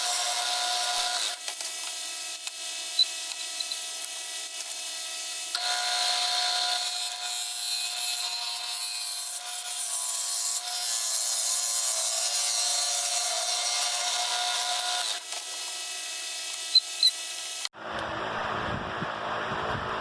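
Woodturning tool cutting inside a large spalted ash fruit bowl on a lathe, a continuous close scraping hiss with slight chatter, varying in intensity as the cut moves deeper, with no talk.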